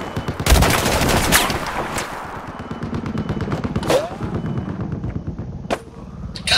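Rifle fire in the Battlefield 4 video game, with rapid bursts of close shots and heavier distant blasts in a loud, dense battle soundscape, with no speech.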